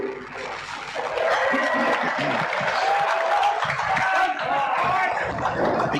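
Crowd at a country football match at Kyneton Showgrounds, steady applause and cheering filling the whole stretch at moderate distance.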